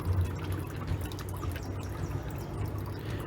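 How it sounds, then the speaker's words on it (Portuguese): Excess water draining out of a soaked plant pot, a soft continuous pouring trickle with small drips, fairly quiet and close, with no talking. "deixamos escorrer o excesso da água"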